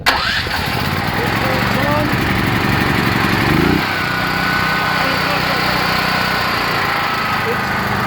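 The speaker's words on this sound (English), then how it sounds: "then I'm going to turn the engine on" A small gasoline engine from a biogas conversion sputters to life and settles into a loud, steady running drone, with a brief change in pitch partway through as the idle control ramps it down.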